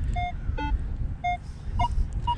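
Minelab X-TERRA PRO metal detector sounding short electronic target tones near fence posts, a few clipped beeps repeating in quick bursts over low rumble and ground noise.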